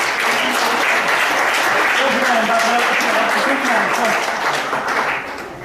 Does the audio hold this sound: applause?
yes